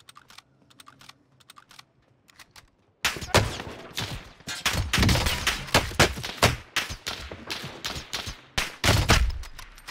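Rapid sharp gunshots from a KAR98k rifle in Warzone on Rebirth Island, loud cracks in irregular bursts after a quiet start with faint clicking.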